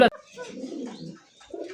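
A pair of kaka pigeons give soft, low cooing calls, close by, in a short burst after a sharp click at the start, with a brief pause before a final coo.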